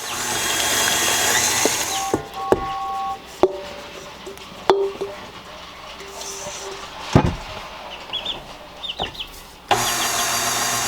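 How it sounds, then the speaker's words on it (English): Stand mixer kneading bread dough in a homestead kitchen: a steady, loud motor whir at the start and again at the end, with a quieter stretch between holding clatters, knocks and clucking chickens nearby. "We're gonna let the mixer do its thing and knead the dough for us for like 8 minutes or so"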